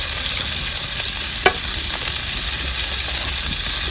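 Chicken frying on hot clay roof tiles outdoors, giving a loud, dense and continuous sizzling hiss throughout, with one brief sharp crackle partway through.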